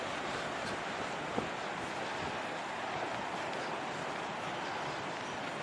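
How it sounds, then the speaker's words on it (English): Sea waves wash onto the shore near Sunderland as a constant, broad roar mixed with wind buffeting the microphone, steady and fairly loud with no clear individual breakers. "Can you hear that sea?"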